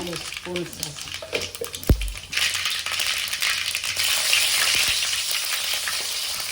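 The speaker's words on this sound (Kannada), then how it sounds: "ಇದಕ್ಕೆ ಇವಾಗ ಸಾಸಿವೆ ಹಾಕೊಳ್ತಾ ಇದ್ದೇವೆ" Mustard seeds fry in hot oil for okra palya, a dense crackling sizzle swelling up after a thud and a few spoken words at the start, then spattering loudly and steadily close by.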